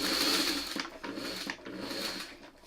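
Sewing machine stitching fabric pieces for a quilt block, a steady close mechanical whir with a rhythmic needle chatter running continuously, briefly easing and resuming.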